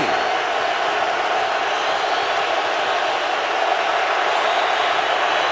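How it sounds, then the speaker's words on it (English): Stadium crowd noise swells at an NFL Monday Night game between Minnesota and San Francisco, a steady, loud roar on a third down in the red zone that holds without a break. "Here comes the crowd on 3rd and 6 from the 19."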